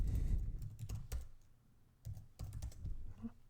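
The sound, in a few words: computer keyboard typing while creating a new file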